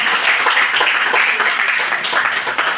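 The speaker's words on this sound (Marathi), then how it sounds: "टाळ्या वाजवण्याचा थांबू नका" Steady applause from a college audience at a cultural event, dense clapping sustained without a break and filling the whole moment, with no voices over it.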